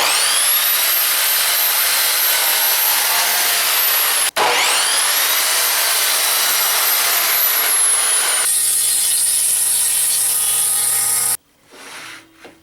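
Loud, continuous power saw cutting wood for a garden box lid, high whining drone sustained with a brief break, then a shifted pitch before cutting off into quiet handling noise.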